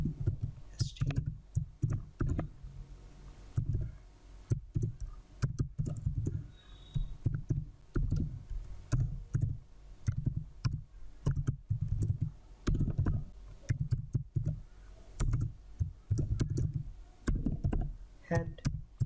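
Computer keyboard typing while writing HTML and CSS code, a steady run of close, quick key clicks in irregular bursts with brief pauses.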